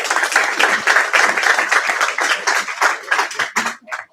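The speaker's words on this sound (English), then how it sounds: "Let's give them a round of applause." An audience claps for city finance officials and a councilman seated as panelists at a public budget forum, a dense, lively round that swells early, then thins into scattered final claps before stopping.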